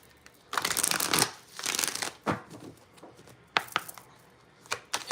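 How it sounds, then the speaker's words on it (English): Tarot cards being shuffled in quick riffling bursts, several dense rustling runs separated by brief pauses and a few sharp snaps, close and moderately loud with no voice. "Let's do one more shuffle."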